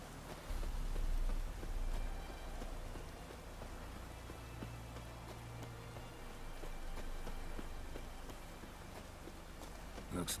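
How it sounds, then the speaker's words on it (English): Rain falls steadily in an open-world fantasy game, a dense even patter with scattered droplet ticks and a low rumble beneath, continuous throughout the clip. "Looks like rain."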